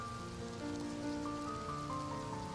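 Steady rain falls continuously at moderate intensity, forming an even wash of drops with faint tonal hum beneath, no voices.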